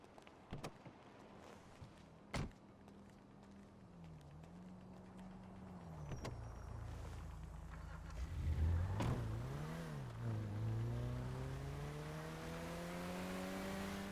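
A car driven in the video game GTA V, its engine humming and revving in a steady, loud drone that rises and dips in pitch, with a few sharp impacts and bumps along the way and no talking.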